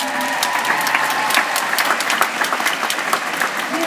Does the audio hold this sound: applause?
yes